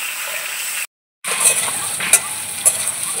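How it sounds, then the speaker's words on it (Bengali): Potato and papaya pieces sizzle in hot oil with five-spice seeds, dried chili and a bay leaf, giving a loud, close, steady hiss that briefly cuts out, then returns with occasional clinks of a stirring spoon. "এবারে তেলের মধ্যে এই আলু আর পেঁপেটা দিয়ে দিলাম। এটা একটু ভাজা করে নিই।"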